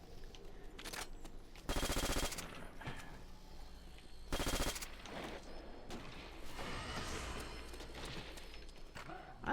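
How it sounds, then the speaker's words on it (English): Bursts of Thompson submachine gun fire in Call of Duty: World at War, two loud rapid volleys standing out over a busy background of game sounds and scattered shots. "I love how, you know, quick the reload for the Thompson is, but it's really easy to run out of ammo like really fast"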